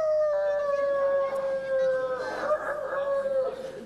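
A voice imitates a dog howling, drawing out a long wavering howl that rises and falls over several seconds, loud and close.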